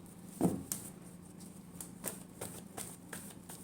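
Tarot cards are shuffled by hand in a quiet room, giving soft papery riffles and a few sharper flicks and taps in an uneven rhythm, close and faint.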